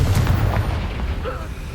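Incendio and Confringo fire spells cast in the Hogwarts Legacy video game, a deep booming blast with rumbling low burst lasting under two seconds, loud and close.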